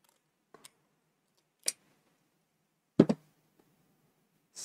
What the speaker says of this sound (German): dann klickt auch der Verschluss wieder rein